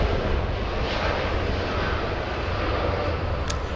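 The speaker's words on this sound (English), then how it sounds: "And we also had a south side departure. It was a Dreamliner flying to Miami, Florida." A Boeing Dreamliner jet departing Los Angeles airport produces a loud, steady engine roar filling the short stretch, with no voices over it.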